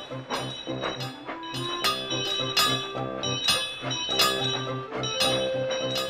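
A tram engine's bell rings repeatedly in bright, ringing strokes over a chugging rhythmic engine and background music in a children's animated railway story.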